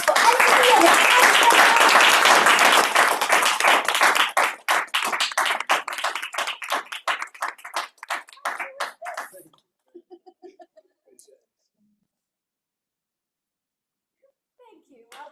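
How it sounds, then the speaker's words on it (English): A round of applause at a Toastmasters club meeting, dense clapping for about four seconds that thins into scattered claps and fades out by ten seconds, followed by near silence. "a round of applause for Anthony"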